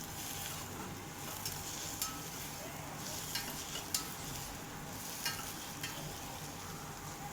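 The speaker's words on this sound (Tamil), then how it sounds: "சேர்த்து அதை நல்லா எண்ணெயிலே நல்லா வதக்கி விட்டுடலாம்" Onion and crushed garlic frying in oil, a faint continuous sizzle broken by a few sharp scrapes and taps from stirring, close and quiet.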